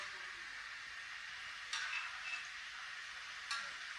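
Murukku frying in hot oil on a low flame, a steady faint bubbling hiss with two short clicks from utensils.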